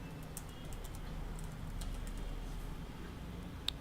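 Faint, light keystrokes on a computer keyboard tap out a short phrase in a quiet room, soft scattered clicks over a low background hum.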